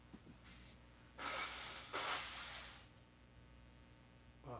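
A person blows their nose because of allergies: a couple of close, forceful bursts of breathy air lasting about a second each, followed by a faint sniff, in a quiet room.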